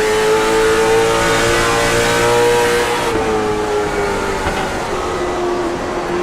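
Short track race cars in a Monday night event at Lakeland roaring past together, a loud steady engine drone with shifting pitch as the field goes by, no talk over it.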